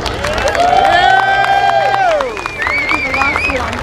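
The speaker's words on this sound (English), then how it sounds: "please give another round of applause for our wonderful representatives" A large indoor crowd at a Gunpla Builders World Cup event in Australia cheers loudly, a dense roar of voices with scattered whoops and clapping, fading slightly after a couple of seconds.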